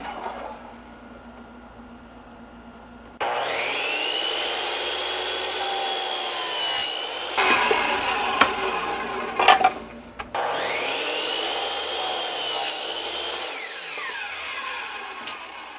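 A power saw cuts wood pieces that will be glued up. It runs loud and steady in two long passes with a brief break between them, and the pitch whines and shifts as the blade bites into the wood.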